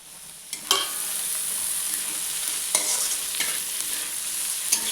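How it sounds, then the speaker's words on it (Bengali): Boiled vegetables tossed into reddish-browned fried onions in a pan for curry leaf chowmein, giving a steady loud sizzle broken by a few sharp stirring scrapes and clatters, with no one talking. "এখন আমি দেখুন পেঁয়াজটা লালচে করে ভাজা হয়ে গেছে, এখন এই বয়েল করে রাখা সবজিগুলো আমি দিয়ে দিচ্ছি।"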